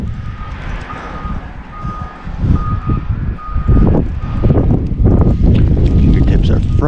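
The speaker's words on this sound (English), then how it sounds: "Got snow plows working." Snow plows back up during a windy snowstorm in Washington, their steady repeating reversing beeps sounding through heavy wind noise and a truck engine rumble, with a person talking nearby.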